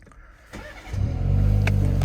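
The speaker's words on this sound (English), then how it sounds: "I can do a little exhaust startup for you here." A 2023 BMW 330i engine cranks and fires up, then settles into a loud, deep, throaty exhaust rumble that swells and holds steady.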